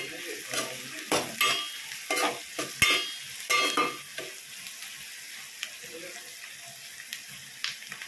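Green chillies frying in a pan, with intermittent sizzling and stirring scrapes in bursts that thin out toward the end, close and moderately loud, with no talk.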